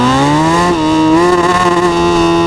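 A 2024 Suzuki Hayabusa motorcycle accelerates hard in first gear on a highway while wheelieing, its engine howling loudly and close with a steadily rising, tonal whine.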